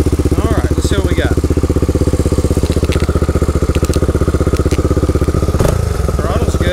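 A Honda 350X three-wheeler engine, freshly fitted with an upgraded carburetor, idles with a steady, rapid loud putter, close up and continuous for several seconds, with faint mechanical clatter and a brief dip near the end.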